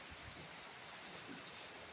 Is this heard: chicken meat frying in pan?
no